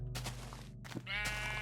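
A Minecraft sheep bleats a few times in quick succession, close and clear, with a low steady hum underneath.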